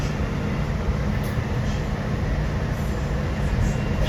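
MBTA train running in Boston, heard from on board as a steady loud low rumble and rolling wheel noise, continuous and even, with faint squeals above.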